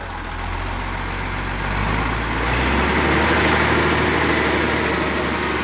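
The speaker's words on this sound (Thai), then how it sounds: "ใช้แบตกับติดเครื่องโหลดครับคันนี้สภาพสวยมากครับฮะ" A ten-wheel truck's engine, started with a battery, idling steadily close by with a low, continuous diesel rumble that swells slightly partway through, with no talk.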